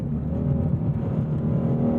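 A 2018 Ford Mustang Shelby GT350R engine gives off a steady, deep rumbling drone heard from inside the car, even and unbroken with no change in pitch.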